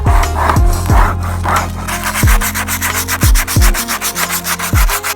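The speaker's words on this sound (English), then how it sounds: "as I start scraping it up, you see it's gonna make a real good mess" A wire brush scrubs the crumbling foam backing off a sagging Honda Civic headliner in long, loud, close strokes, followed by quicker rhythmic scraping.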